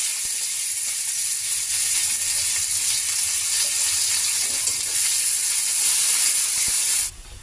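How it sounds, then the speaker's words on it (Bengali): Sliced onions frying in hot oil with whole garam masala spices and cumin seeds, a steady loud bright sizzle that holds evenly and drops away abruptly near the end. "পেঁয়াজগুলো আমি লাল লাল করে ভেজে নিয়েছি।"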